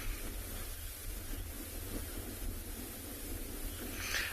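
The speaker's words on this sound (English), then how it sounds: "there's a lot of wind that's blowing very strongly" Strong wind blowing outdoors on a sunset safari, a steady, broad rushing roar with low gusty rumble, continuous and fairly faint throughout, with no talk.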